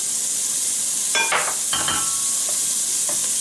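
Carrot tossed into a pan of translucent frying onions, a constant loud sizzle with a couple of clattering, scraping stirs in the middle and lighter taps afterward; no talking.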